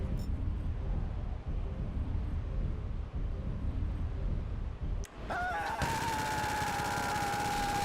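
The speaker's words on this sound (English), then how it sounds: "it will enable you to freely fire your two-handed weapon as you fall." Rapid gunfire from a two-handed weapon in GTA V while the character falls, a dense continuous rattle of shots that cuts off briefly and gives way to a steady whining tone.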